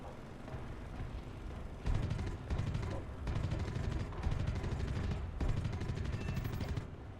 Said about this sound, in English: he's got a tail gunner after all